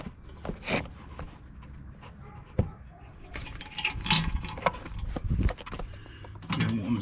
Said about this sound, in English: You want to screw that up so it's nice and tight, like that.